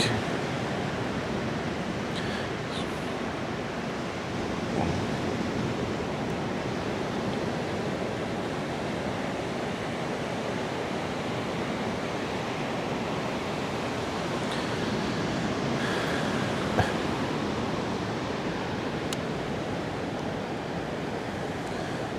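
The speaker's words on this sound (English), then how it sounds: "the waves don't look like they're crashing too hard today" Ocean waves wash steadily onto a beach at St. Augustine, Florida, a continuous broad surf roar with gentle swells and some wind, no voices over it.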